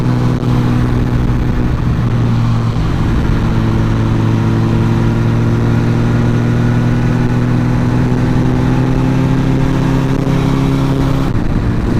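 A Yamaha R1M sport motorcycle with a carbon body, its engine running loud and close: a sustained, steady drone with a slight rise in pitch as it revs, continuous throughout without talk.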